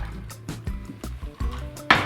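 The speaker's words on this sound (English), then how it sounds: "So let's just pour in about a cup of milk," Milk is poured into a cocktail shaker, heard as close, uneven sloshing and glugging in irregular pulses with a brief bright splash near the end.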